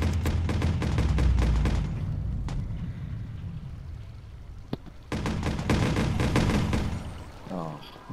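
Gunfire in the video game Watch Dogs crackles out in rapid bursts, with a heavy volley at the start, a lull broken by single sharp shots, then another loud burst. A voice speaks over the action.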